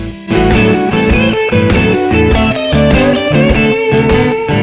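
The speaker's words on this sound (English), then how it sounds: "we're going to learn a really cool blues lick" An electric guitar plays a blues lick in A, bent notes and quick repeated picked notes, loud and up close with no voices.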